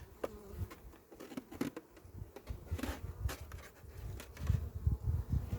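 Honeybees hum steadily around an opened hive during an early-spring colony check, a close, low buzzing swarm with individual bees droning past and occasional soft handling knocks.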